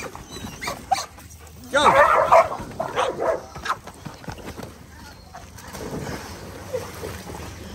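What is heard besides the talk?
excited dog barking while playing with toys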